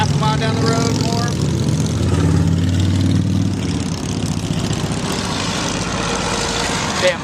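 Motorcycles pass by on a road with a steady, heavy engine drone that swells slightly and then holds close and loud for the whole stretch.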